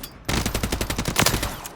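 Rapid automatic gunfire from a weapon in the video game Warzone 3, a dense burst of evenly spaced, loud shots that starts abruptly after a brief pause and runs continuously to the end.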